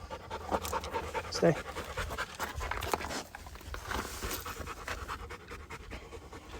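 A dog named Max pants in quick, steady breaths at close range outdoors at a petroglyph site near Palisade, Colorado, heard under a man's spoken commands.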